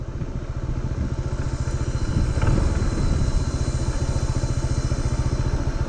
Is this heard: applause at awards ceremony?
no